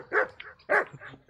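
A dog in a video game barks twice in sharp close bursts, with a softer yip between them and another bark starting at the end.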